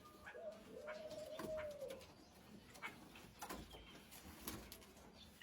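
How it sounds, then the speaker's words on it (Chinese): A pair of pigeons coos softly inside a pig pen, with one drawn-out, faint coo followed by a few scattered clicks and rustles. "人家这一对鸽子天天在猪圈里面谈恋爱"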